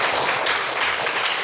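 A group of children and adults in a classroom clap briefly and continuously for a student, a dense short burst of applause with no speech over it.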